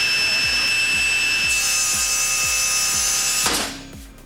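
A high-speed power saw at about 4,000 RPM cuts wood with a loud, steady, high-pitched whine, then cuts off abruptly near the end as a SawStop aluminum brake halts the blade, leaving a short fading tail.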